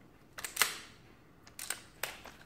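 The short-stroke bolt of a Feinwerkbau KK 2800 rifle being worked and closed, a few crisp metallic clicks and snaps spread over two seconds, close and fairly quiet with no talking.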